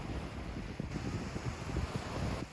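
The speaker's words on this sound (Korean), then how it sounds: "파도 소리만큼은 시원해요" Surf rolling onto Songjeong beach under a darkening sky, a steady broadband wash with soft repeated bursts of breaking waves and some wind noise across the microphone, no voices.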